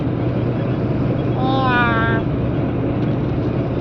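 A voice imitates a cat's meow in one short, rising and falling call over a steady background hum.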